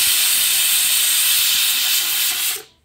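A pressure cooker releases steam in a loud, continuous, close hiss that holds steady for over two seconds before quickly cutting off.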